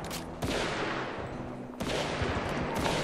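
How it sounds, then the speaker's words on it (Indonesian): Rapid gunfire in the video game GTA V, with dense crackling bursts of shots repeating throughout at close range and a few sharp louder reports standing out. "dengar aja suara tembakan"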